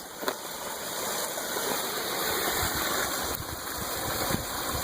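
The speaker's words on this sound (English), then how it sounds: "And our campsite is even equipped with a waterfall." A waterfall runs beside an Appalachian Trail campsite in the woods, giving a constant, dense rushing roar that holds at an even level throughout with no speech.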